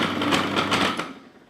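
A food processor whizzes flour, cocoa powder and caster sugar in a steady, close, loud burst of about a second before the motor winds down and fades.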